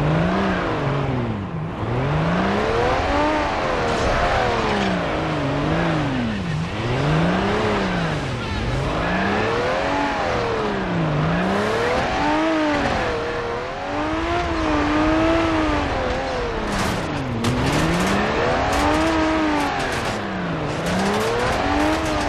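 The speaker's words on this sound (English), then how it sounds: "The agency's supercar is faster than a speeding bullet and sticks to the road like shit to a blanket." The agency supercar in Crackdown 2 races along with a loud, rising and falling engine whine that revs up and down in repeated sweeps, tires hissing beneath it, with no talking.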